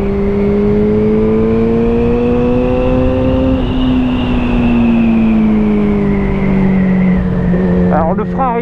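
A Yamaha XJ6 47.5 hp A2 motorcycle rides along a road, its engine note holding a steady loud drone that rises and falls gently as it travels, with a rider's voice talking over it.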